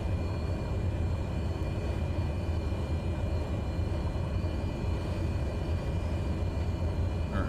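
A light plane's engine throttled back to idle while taxiing, a steady low droning rumble with faint hum, continuous and even throughout with no talk.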